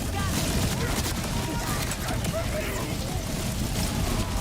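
Gunfire with ricocheting bullets in Borderlands 4, dense crackling impacts and sharp bursts filling the scene, with a voice talking over the chaotic shooting.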